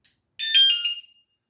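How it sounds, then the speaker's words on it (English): A custom e-bike's anti-theft alarm sounds once with a single shrill, high-pitched electronic burst lasting about half a second, loud and close, then cuts off to silence. "if you move this bike, that alarm is going off"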